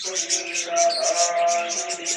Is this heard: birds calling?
yes